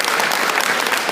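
A brief burst of loud, packed crowd clapping at a public gathering in Janakpuri, Delhi, for the Foreign Minister, steady and close with no speech.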